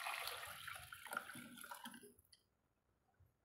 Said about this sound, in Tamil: எப்போவும் நீங்கள் சாப்பாட்டுக்கு எந்த அளவுக்கு தண்ணி வைப்பீங்களோ அந்த அளவுக்கு நீங்கள் சேர்த்துக்கங்க